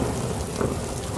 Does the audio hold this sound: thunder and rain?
yes